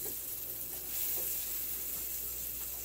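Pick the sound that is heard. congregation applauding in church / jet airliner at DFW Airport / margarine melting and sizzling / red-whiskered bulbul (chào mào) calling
margarine melting and sizzling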